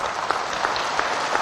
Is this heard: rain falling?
no